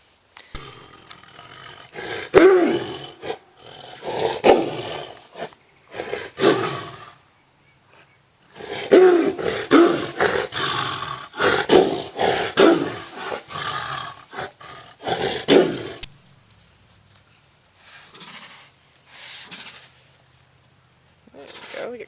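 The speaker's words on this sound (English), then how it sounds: "We get quite a bit of chuffing and friendly noises, which is good." Tigers in a habitat chuffing and making friendly greeting noises in short breathy bursts and low rumbles, fairly close, with people talking at times in between.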